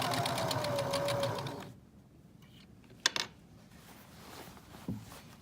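A sewing machine stitches a drawstring bag in a steady, fast whirring run that stops partway, followed by a few small clicks and taps.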